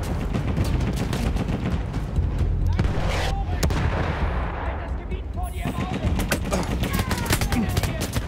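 Dense gunfire hitting around the player's tank in Battlefield 1, rapid overlapping shots and booms in a forest battle, continuous and loud, with someone talking over it.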